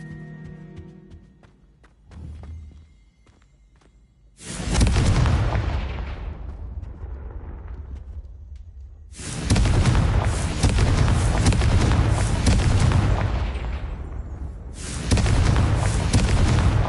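The Confringo explosive spell goes off in Hogwarts Legacy, giving three loud, booming blasts. Each leaves a long rumbling tail, and the bursts are spaced several seconds apart.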